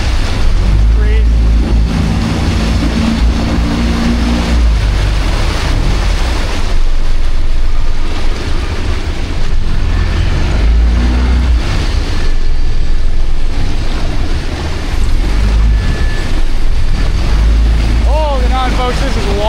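Rapids roar on the Thompson River in British Columbia during a rafting run at 17,000 cfs, a loud continuous rush of churning water with heavy wind buffeting close to the microphone.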